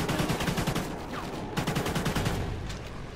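Rapid automatic gunfire from the video game Call of Duty: Ghosts rattles in quick repeated bursts, loud and close, with a short pause before the shooting resumes.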